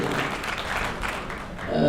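Audience applause after a presentation at a general meeting, a brief dense burst of clapping from a crowd, fairly loud and continuous, with a voice starting to speak near the end.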